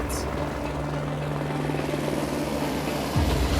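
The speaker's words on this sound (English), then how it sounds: "there's a helicopter. That's the helicopter." A helicopter flies overhead above an island survival setting, its steady, loud rotor drone filling the whole stretch and swelling deeper near the end.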